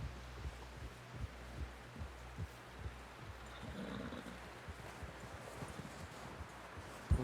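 Horse hooves clip-clop at a steady walking pace in Red Dead Redemption 2, a low rhythmic thudding that runs through the whole stretch beneath a wash of background ambience.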